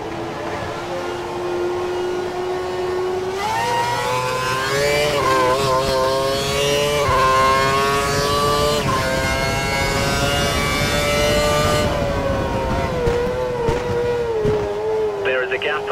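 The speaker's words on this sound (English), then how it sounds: "the car behind is running on full revs" Formula 1 race car engine screaming at full revs in the F1 2012 video game at the Chinese Grand Prix, a loud sustained high-pitched whine rising and falling with gear changes, steady throughout with a faint voice underneath.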